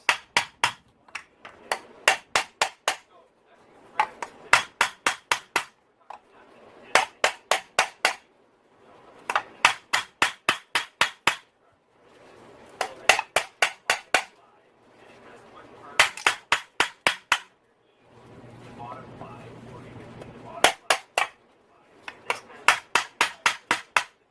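Light mallet taps on the cases of a Yamaha YZ450F engine being split apart, sharp close knocks in quick bursts of four to six with short pauses between, some bursts backed by low rumbling handling noise.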